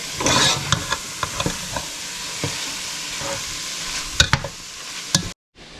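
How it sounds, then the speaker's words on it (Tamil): Chicken and rice for Schezwan chicken fried rice are stirred and tossed in a hot frying pan, with steady sizzling and a run of scraping, clattering stirs, closer and louder near the end before a sudden stop. "சிக்கனையும் போட்டாச்சு இப்போ பிரட்டி போட்டு சேர்ந்து ரைஸ் போடுங்க"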